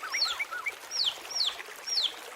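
Trapped baby chicks cheep as a sound effect in a children's story, with a run of high, sharp, falling peeps repeated several times in quick succession, clear and close.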